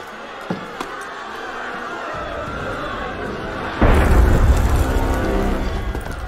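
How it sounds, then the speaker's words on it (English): A deep, loud cannon boom erupts partway through in Assassin's Creed Unity, cutting over a quiet crowd murmur and leaving a rumbling wash of noise behind it. "That was cannon fire."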